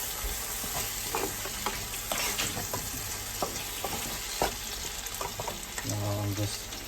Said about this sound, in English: onion and tomato keep boiling